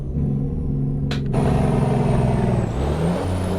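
Heavy truck engine running with a 725HP engine and sound mod in Euro Truck Simulator 2 and engine brake engaged, a steady deep rumble with a brief hiss partway through.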